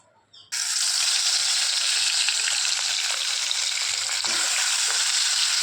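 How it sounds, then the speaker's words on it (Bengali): After a short quiet moment, prawns hit hot mustard oil with a sudden loud hiss that settles into a steady, close, intense sizzle. "এখন আমি আগে মাছটা ভেজে নেবো চিংড়ি মাছটা আগে ভেজে নেবো"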